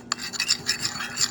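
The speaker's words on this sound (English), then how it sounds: "Then I'm gonna mix it up with my spoon" A spoon stirring spicy Korean buffalo wing sauce in a bowl gives a run of close, steady scraping and rubbing strokes over about a second, with no voices.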